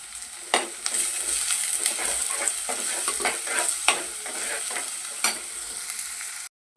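Chopped onions sizzle and fry in a hot pan for an anchovy kuzhambu, a steady close hiss broken by scraping stirs, then cut off abruptly, with no speech.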